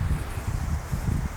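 Soft wind blowing through open farmland, a faint, even low rush with gentle pulsing gusts and a light rustle on top, continuous and fairly quiet, with no one speaking.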